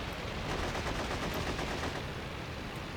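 Aircraft machine guns in a flight sim game fire a continuous, loud stream of rapid shots, a dense rattling barrage that holds steady for the whole stretch with no pauses.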